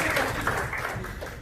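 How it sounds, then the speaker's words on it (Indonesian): Dense applause from a crowd fills the room, a steady wash of many hands clapping at once. "tepuk tangan buat Anda semua"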